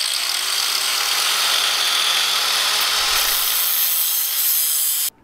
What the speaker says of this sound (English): We got the grinder and cut them in half.